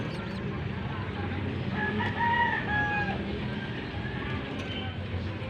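A yellow-back gamecock rooster crows once, clearly and at mid distance, over a noisy farmyard backdrop of other fowl clucking and rustling.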